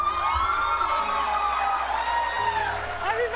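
A crowd cheers and whoops in a played clip, with high voices rising and falling steadily under ongoing talk.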